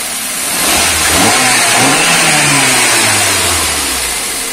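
A Daihatsu Gran Max or Luxio engine hums steadily and smoothly up close after repair of fault codes P0500 and P1604, revving slightly then settling back, with no other sounds.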